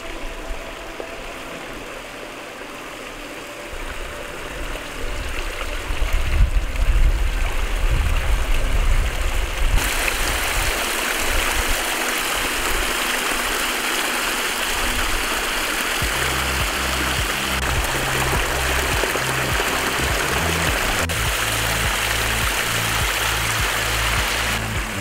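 A backyard waterfall pours steadily around a boulder, a continuous close rushing and splashing of water that holds even and full throughout with no voices.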